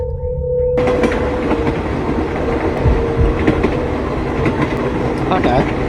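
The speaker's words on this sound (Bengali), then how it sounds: "একটা ট্রেন এসে দাঁড়ালো" An old, rusty train rumbles in loudly and stops, with clattering wheels and screeching metal, filling the space with heavy mechanical noise after a quiet start.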